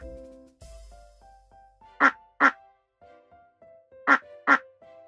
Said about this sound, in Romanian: Rața face mac, mac!